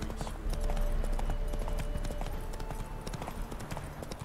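Hooves of Roach, Geralt's horse in The Witcher 3, clip-clopping at a steady walking rhythm, with faint game ambience and music tones in the background.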